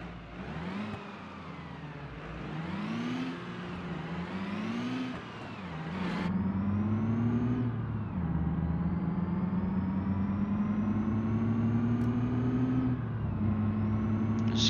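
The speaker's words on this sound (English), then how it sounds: "listen to the turbo sing" A heavy turbocharged cement mixer truck engine revs and climbs through gears, with a whining turbo rising in pitch over a deep rumble, sustained and fairly close.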